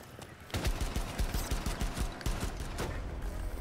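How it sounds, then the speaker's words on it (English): Shotgun fire in Rainbow Six Siege, a burst of sharp, loud repeated blasts and impacts in quick succession during close-range gameplay. "I'm gonna drop shot with the shotgun."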